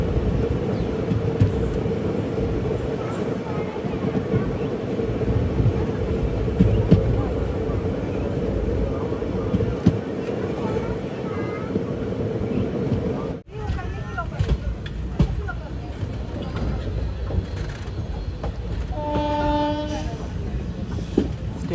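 Palakkad–Tiruchendur Express running toward Palani, a continuous rumble and rattle of the carriage heard from inside, with a brief break and then lighter clatter and a horn-like tone near the end.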